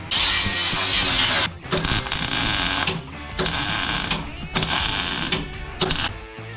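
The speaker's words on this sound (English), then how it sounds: "Let's grind this one up and put it in." A grinder works a welded metal piece for handle mounts, with a harsh, high whine in several sustained passes broken by short pauses and quieter stretches.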